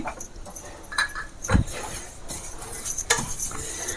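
Instant rice shavige (vermicelli) roasts on low heat in a pan, giving scattered small crackles and clinks of a stirring utensil against the pan, with a louder knock partway through; no talking.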